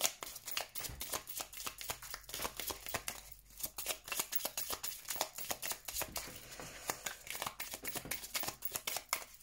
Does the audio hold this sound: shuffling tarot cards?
yes